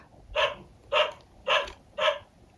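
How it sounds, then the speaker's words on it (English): Four sharp dog barks at an even pace, each short and loud, with quiet gaps between them and no talking. "A dog."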